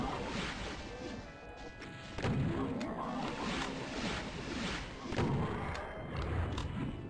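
Repeated heavy shotgun blasts in the Doom 2 map Green Gothic, with dense, booming thuds layered over constant game noise and clashing effects, loud and continuous throughout.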